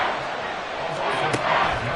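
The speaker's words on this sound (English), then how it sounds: "The Arrowhead crowd in full roar" A stadium crowd at Arrowhead in a Madden 24 American football game, a dense loud roar of cheering that swells briefly, with a sharp thud in the middle.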